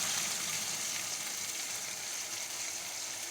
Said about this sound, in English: we're going to saute this until our onions are nice and brown